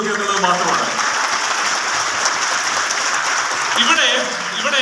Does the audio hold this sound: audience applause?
yes